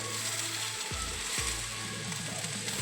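Steady sizzling of cabbage and onion frying in a pan, with a few scraping stirs and clanks of a utensil against the pan.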